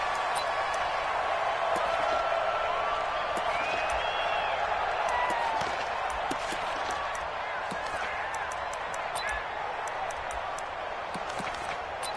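A stadium crowd cheers in an American football video game between the Carolina Panthers and Atlanta Falcons, a broad continuous roar with scattered whistles and sharp claps, steady throughout with faint commentary beneath.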